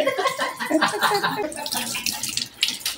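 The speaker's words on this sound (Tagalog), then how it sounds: "May awas sa gripo, Mi." Water pours steadily from a tap, splashing and gurgling, while voices talk over it.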